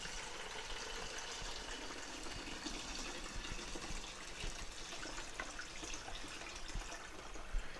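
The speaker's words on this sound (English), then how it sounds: "I've got cold water in here. All we're going to do is fill the tank." Cold water pours into the tank of a Cuisinart DGB-800 burr-grind coffeemaker, a faint, steady trickling and splashing that continues evenly without speech.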